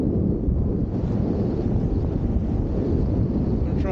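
Strong, gusty wind roars steadily over open water during wing foiling, a dense, loud rush buffeting the microphone without pause.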